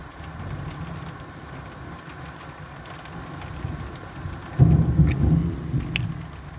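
Thunder from a lightning storm rolls in over steady rain, building to a loud, close crack and rumble about two-thirds of the way through before fading back into the downpour.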